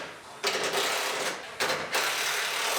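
Lift struts are bolted into a new rear hatch on a 2020 Toyota RAV4 XSE hybrid, heard as two close, loud, buzzing power-tool bursts with a brief pause between them.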